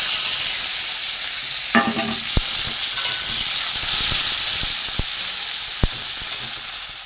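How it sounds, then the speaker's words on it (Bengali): Onion, tomato and green chilli frying in hot oil after cardamom, cloves and cinnamon, a steady broad sizzle and hiss with a few sharp clinks of a utensil against the pan, no voices. "এবার আমি এখানে রয়েছে পেঁয়াজ, টমেটো আর কাঁচা লঙ্কা দিয়ে দেবো।"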